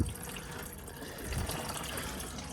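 Coolant draining out of a machine being taken apart, a steady close splashing trickle of liquid running without pause and without talk.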